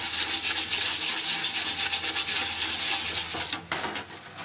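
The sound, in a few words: rinsing metal under running water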